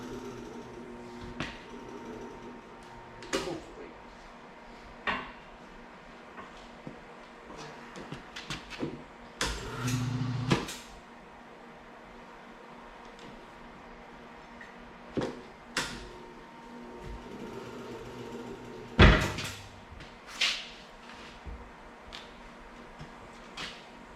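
A tire changer machine spins a wheel to pull a Jeep tire off its rim, giving scattered mechanical clunks, ticks and scrapes at moderate level, with a louder knock near the end and no talk.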